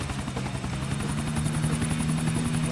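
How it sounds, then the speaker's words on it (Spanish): Helicopter descending to land beside a church in GTA IV, with a steady loud rotor drone and rhythmic blade chop throughout. "Bajar el helicóptero."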